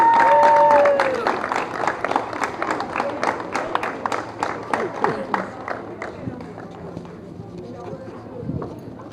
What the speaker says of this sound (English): I hope you can join me in giving him a round of applause